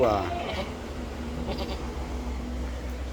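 A newborn Boer cross goat kid gives a short bleat at the start on an Indonesian goat farm, followed by quieter farmyard background, with a person talking nearby.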